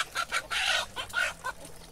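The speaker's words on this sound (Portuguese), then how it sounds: "O galo ali tentou apartar a briga" Chickens and a rooster at a backyard coop give a rapid series of close, loud clucks in short bursts, agitated and closely spaced over two seconds.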